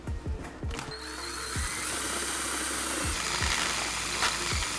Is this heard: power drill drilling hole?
yes